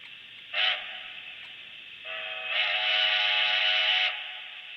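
A model locomotive whistle sounds in two blasts, a short toot followed by a longer sustained chord, over a steady background hum.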